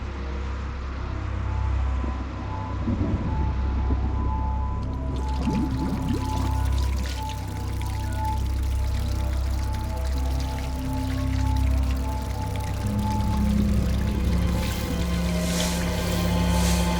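Water is poured for drinking during a dubbed South Indian action movie scene, a continuous pouring splash over a low rumbling background that runs on without talk.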